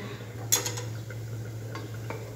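Onions frying with fish in a pan on a weak gas flame, with a sharp utensil clank against the pan, a few lighter scrapes and clinks, and a steady low hum underneath.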